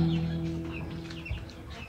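Chickens cluck in a brooder on a small farm, soft scattered clucks and chirps at moderate distance over a low steady hum, with no speech.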